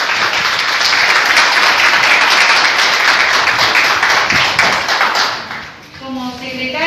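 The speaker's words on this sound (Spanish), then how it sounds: "Un aplauso para él" A crowd of market vendors claps for a newly sworn-in market board president, steady dense applause that fades toward the end as a voice begins to speak.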